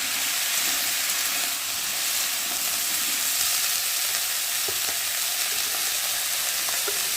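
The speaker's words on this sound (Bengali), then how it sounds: "ওই তেলের মধ্যে এখন আমি সবজিগুলো দিয়ে নেব সবজিটাকে খুব ভালো করে নেড়ে দেবো" Vegetables for shukto hit a little hot oil and are stirred, producing a loud, continuous close-up sizzle with a few light taps from the stirring.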